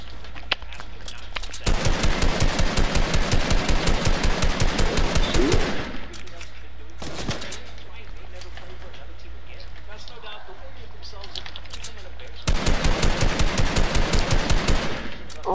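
Gunfire in a shooting game, long loud bursts of rapid automatic fire that stop, then resume after a gap, with players talking throughout.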